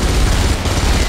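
Sustained rapid gunfire from an MP-42 weapon in the Enemy Front video game, a loud, dense, continuous burst of shots with booming low end throughout the short stretch.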